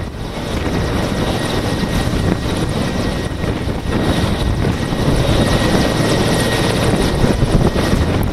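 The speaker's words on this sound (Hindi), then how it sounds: "हेलीकॉप्टर से जो हवाई ट्रूपर्स उतर रहे हैं उसकी तस्वीरें आप देख रही हैं।" A helicopter flies overhead as paratroopers land at a defence event in Jhansi, giving a loud, steady rotor and engine roar throughout with no talk.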